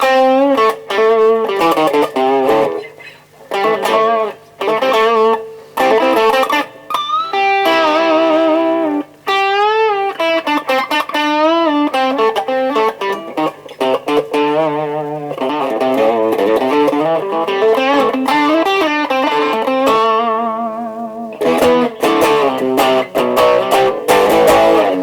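A Gibson Les Paul 50s Tribute electric guitar played through light distortion rings loud and close, with chopped chords and sustained bent single notes forming a continuous riff and lead line over about twenty-five seconds.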